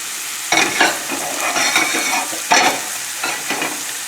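Sausage sizzles steadily in a hot pan with shrimp, broken by two louder bursts of scraping and stirring as the pieces are pushed around; close and continuous, with no talking.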